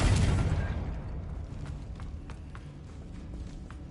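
A Confringo blasting spell goes off in Hogwarts Legacy with a loud, sudden close burst that fades into a short rumbling decay, followed by a few faint clicking footsteps.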